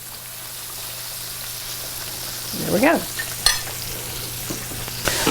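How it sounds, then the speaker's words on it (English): Pork chops fry in vegetable oil with a steady, close sizzle throughout, a brief clatter from a utensil midway, and a short spoken phrase near the end. "my pork chops are frying"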